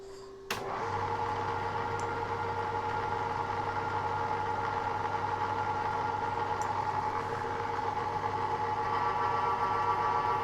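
A Black Diamond drill grinder starts up and runs steadily in low gear, a constant mechanical hum with a faint higher whine that holds unchanged throughout.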